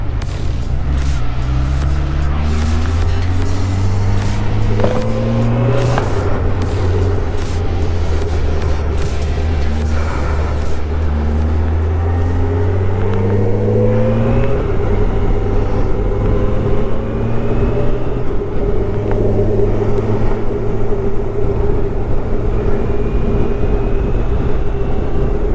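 A Suzuki GSX 600F motorcycle being ridden on country roads, its engine droning loud and close without a break, the pitch climbing and dropping through the gears with a slight whine at the top.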